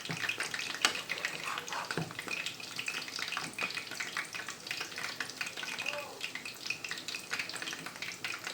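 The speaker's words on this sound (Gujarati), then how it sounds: "ધીમે ધીમે પાકીએ એટલે મસ્ત પાકી જાય પાપલેટ પણ." Pomfret fish fries slowly in a pan, giving a steady, soft sizzle and crackle with faint clinks and a brief bubbling note, quiet and continuous throughout.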